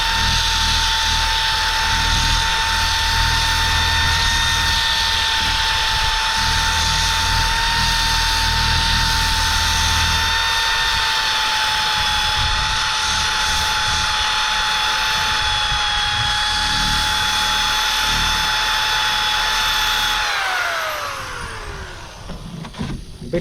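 Power drill spinning a small sandpaper disc against a brake rotor on a Mitsubishi Montero (Pajero, Shogun) third generation: a loud, steady high whine with a constant hum for about twenty seconds, then winding down as the drill stops.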